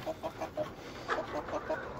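Jumbo Cornish Cross meat chickens, about twelve weeks old, cluck in a steady run of short, close calls, roughly a dozen in two seconds, with no talking over them.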